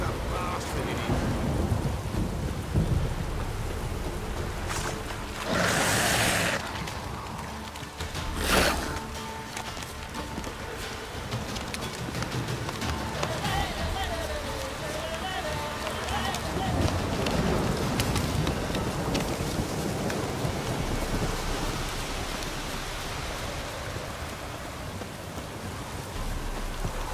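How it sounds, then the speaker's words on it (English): Heavy rain pours steadily in a rainy outdoor scene of the video game The Witcher 3: Wild Hunt, with a couple of sharp thunder cracks breaking through early on and a voice muttering over the wash. "This downpour's a bastard,"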